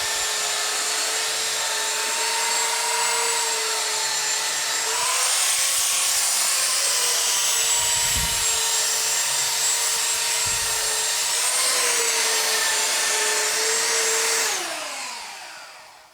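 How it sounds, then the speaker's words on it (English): A floor sander grinds down a wooden subfloor with a loud, steady motor whine and rough abrasive hiss, its pitch dipping and rising as it works, then winding down at the end. "that's the best and fastest way you're gonna sand down the entire subfloor"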